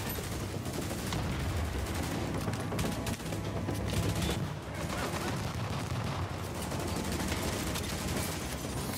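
Dense, sustained automatic gunfire and heavy shooting in The Division 1.2 co-op play form a constant loud barrage with no pauses.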